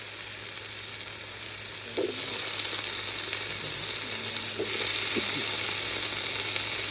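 Potatoes fry in oil at a night camp cookout, giving a steady, dense sizzle throughout with a few faint clinks and knocks, close and continuous, with no talk.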